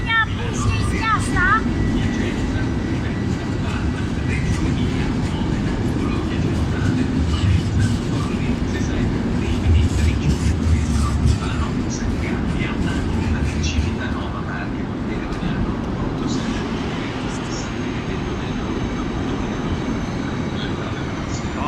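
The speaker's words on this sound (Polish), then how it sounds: "No, jest szybka kolej" High-speed train passing at a station in Milan: a loud, sustained roar of rail and wheel noise with rhythmic clatter, steady for about twenty seconds before easing slightly, with no clear talk over it.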